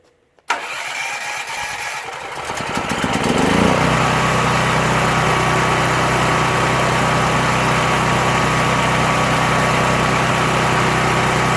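A Powermate PM9400E gasoline portable generator with electric start cranks and fires up, then settles into a steady, loud, close engine drone that runs on without a break.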